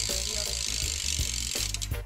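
A Madera rear hub on a custom BMX bike buzzes as its freewheel ratchet spins, a steady, close mechanical clicking with a few brief changes in pace, with no talking.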